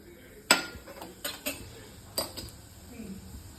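Mustard seeds spluttering and popping in hot sesame oil while a tempering for manathakkali vathal kuzhambu is cooked: several sharp, close crackles at irregular intervals over a low background hiss.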